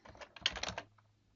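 Keys clatter on a computer keyboard as a short label is typed, a quick close burst of about a dozen soft clicks lasting under a second, then quiet.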